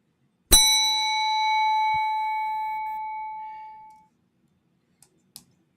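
A single bright notification bell strikes once and rings out clearly, its tone sustaining and fading over about three seconds, followed by two faint clicks in near silence.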